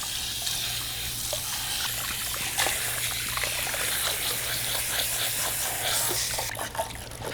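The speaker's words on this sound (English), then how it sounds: "So I'm gonna do a quick rinse." Warm water runs steadily from a salon shampoo bowl sprayer, rinsing hair in a constant close wash with a low hum underneath, ending in a brief splashy shift.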